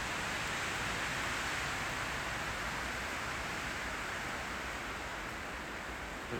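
Steady wind blowing outdoors on a hike in the hills of north Wales, a constant broad rushing hiss, loud and close to the microphone, unbroken throughout with no voices.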